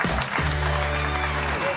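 Audience applause at a show at the Olympia, a dense and steady wash of clapping that lasts throughout, with a sustained musical tone underneath.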